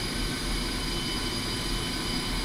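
In the DCS video game, the left engine of a Ka-50 Black Shark helicopter runs up with a steady, loud turbine roar and a high whine, unbroken and with no voices.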